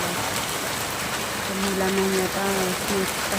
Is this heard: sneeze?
no